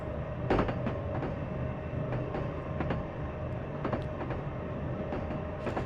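A Metro North commuter train in Train Sim Classic rolls steadily along the Park Avenue line, a continuous mid-volume rumble with faint periodic clicks from the wheels over rail joints and a steady tonal hum.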